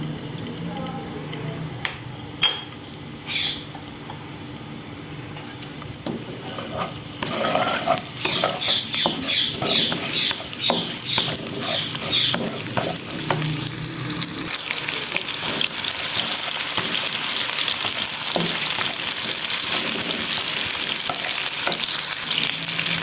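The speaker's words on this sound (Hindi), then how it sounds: "ऑयल थोड़ा सा गर्म हो जाए, अब हम इसमें डालेंगे प्याज और ज़ीरा।" Onion and cumin hit about half a cup of hot oil and a quiet sizzle swells into a loud, continuous fry, with spoon scrapes and light clinks of the pan scattered through.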